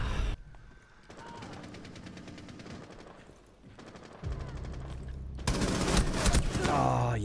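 Bursts of automatic gunfire in a video-game firefight, dense rapid volleys rising to a loud, sustained barrage near the end, with brief lulls between.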